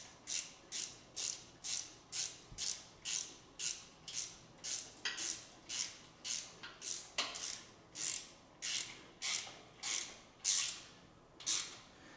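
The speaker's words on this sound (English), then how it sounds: "I'll take a tap and I'll run it through that other hole" A thread tap being worked through a rusty bolt hole on a Farmall Super H tractor under restoration: a steady run of regular, rasping ratchet clicks, evenly spaced and close, continuing without speech.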